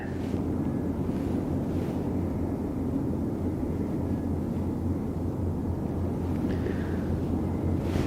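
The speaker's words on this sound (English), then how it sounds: "the weather's a little bit wet, a little bit windy, not too bad" Strong wind at Aberdeen Harbour on a rainy day buffets the microphone with a constant low roar, gusting in bursts, with surf-like rumble beneath and no voices.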